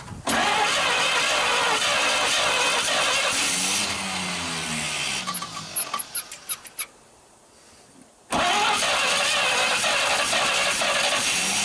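A 1939 Chevrolet Master, started for the first time in 48 years, cranks and runs loudly up close, falters into sputtering pops, goes quiet for a moment, then roars back to life.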